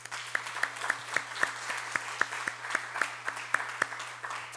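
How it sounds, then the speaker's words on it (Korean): A Marine Corps church congregation at Sunday worship applauds to encourage soldiers and military families, with moderately distant, steady clapping and distinct sharp claps punctuating the crowd at a regular pace over a low constant hum. "큰 박수로 한번 격려하시겠습니다."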